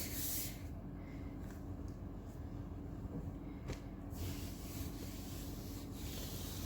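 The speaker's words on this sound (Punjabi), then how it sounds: "ਹੁਣ ਅਸੀਂ ਇਹਨੂੰ ਗਿੱਲੇ ਕੱਪੜੇ ਦੇ ਨਾਲ ਜਿਵੇਂ ਸਾਫ਼ ਕਰਕੇ ਤੁਹਾਨੂੰ ਦਿਖਾਵਾਂਗੇ" A wet cloth rubs across household floor tiles in a steady, soft, close swishing scrub that runs unbroken throughout, fairly quiet, with no voices.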